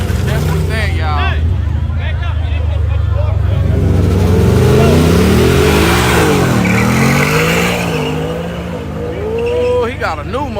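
A powerful Mustang engine revs and roars loudly at a night street race, rising and falling in pitch, while people talk excitedly over it.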